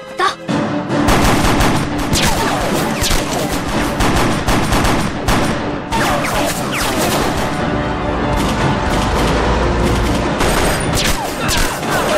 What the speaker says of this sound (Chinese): 有狙击手，快隐蔽！